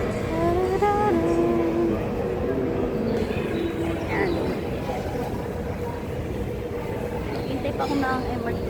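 An MRT train at a station platform, a steady loud rumble of rail traffic with faint high squeals, under a voice talking nearby.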